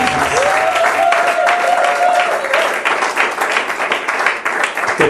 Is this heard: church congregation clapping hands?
yes